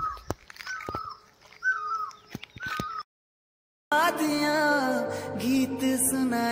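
Birds calling in a village in Uttarakhand, India, a few repeated crow-like caws with sharp knocks, then a pause and a louder stretch of mixed tonal sound.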